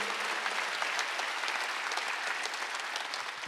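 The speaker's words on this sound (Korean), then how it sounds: "믿으시면 박수 한번 하세요." A church congregation at a Korean Wednesday worship service claps together, a steady, even wash of many hands heard from across the room, fairly soft, with no speech over it.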